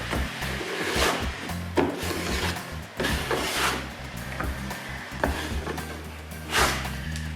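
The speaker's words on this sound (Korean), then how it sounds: "헤드코트를 이용해서 표면을 덮어줄 거예요." Filler coat being spread and rubbed across the surface of a damaged interior wooden door, with repeated scraping strokes of a spreading tool, close and fairly loud, no talking.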